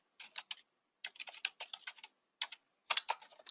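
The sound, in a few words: typing on a computer keyboard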